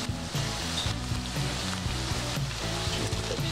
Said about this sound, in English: got the beef and onion cooking up quite nicely in the pan.